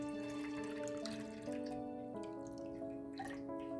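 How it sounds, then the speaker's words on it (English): Carrot and beetroot juice is poured through a kitchen strainer, giving a close, continuous trickle and dribble of liquid that shifts in pitch as the flow changes. "now I'm going to run it through my strainer one more time, just to get out any of the excess pulp"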